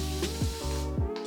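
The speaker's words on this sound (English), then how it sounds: "you just spray it once while it continuously spray, hence continuous spray bottle" A continuous-mist spray bottle hisses steadily as it moisturizes starter locs, one press giving a long, close, even spray with slight pulsing through the burst.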